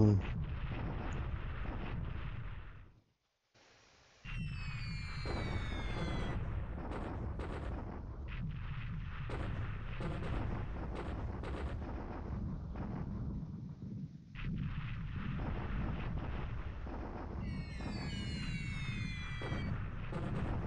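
Bombs from Hudson bombers explode across an airbase in the War in the Pacific strategy game, a dense run of rumbling blasts and crackling booms with a brief silent gap and whistling falls, while someone talks over it.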